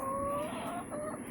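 Chickens cluck in a backyard flock that includes a black rooster, with a few short, close, moderately loud calls over steady background noise.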